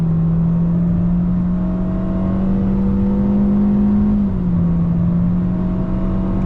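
A 98-horsepower Chevy Spark under full-throttle acceleration, heard from inside as a loud, steady engine drone that climbs in pitch, dips briefly at a gear change, then keeps rising, with no talking.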